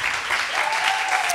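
Audience clapping at a human rights session at the Danish Institute for Human Rights, a brief, dense burst of many hands at close, even loudness, with a faint tonal whistle running underneath.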